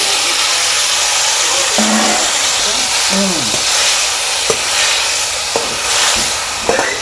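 Green chilies and tomatoes fry in a spoonful of oil in a kadai, with a loud steady sizzle and hiss, occasional stirring clinks and brief voices in the background.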